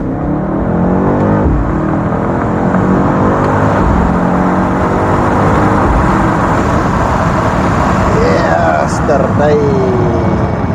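A BMW XM G09 plug-in hybrid SUV accelerates hard from inside the cabin, a loud sustained engine roar climbing in pitch through the gears with steady road rumble and whirring underneath.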